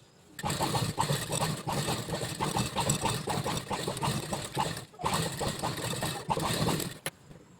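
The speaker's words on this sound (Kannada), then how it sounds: "ಇವಾಗ ಮಾಮೂಲಿ ಡಬಲ್ ಫುಟಲ್ಲೇ ನಾನು ಸ್ಟಿಚ್ನ ಹಾಕ್ಕೊತೀನಿ" A hand-operated embroidery sewing machine with a standard double foot stitches a blouse. The motor runs in a steady, fast, close whirring rattle in two long bursts with a brief pause between them, and no one speaks.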